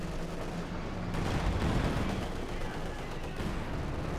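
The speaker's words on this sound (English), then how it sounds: "Okay, mortar there to do some damage." Mortar and artillery fire in the real-time strategy game Company of Heroes, a dense rumbling barrage of booming impacts and crackling shots that rolls on continuously under a commentator's voice.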